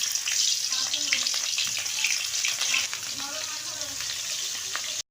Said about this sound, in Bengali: কড়াটা গরম হয়ে গেছে,